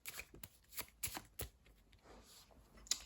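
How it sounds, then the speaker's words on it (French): A deck of villain cards from the Roll Player board game being shuffled by hand, several quick crisp riffling bursts close up, then quieter handling. "on mélange les cartes du méchant"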